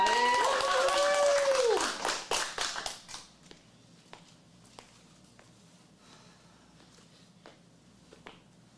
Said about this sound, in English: Let's get a big round of applause, everybody.